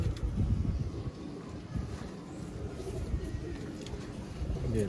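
Pigeons coo softly in a breeder's loft, low repeated murmuring calls over light wind noise and a faint background hum.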